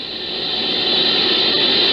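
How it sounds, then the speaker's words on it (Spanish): A steady, continuous hiss of broadband static from interference received by a horn antenna, constant in level throughout and cutting off abruptly at the end. "la Horn Antenna que utilizan recibe constantes interferencias"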